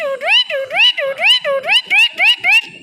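A person mimics a parrot's call, repeating a rapid series of shrill, squawking chirps in a steady rhythm, close and loud.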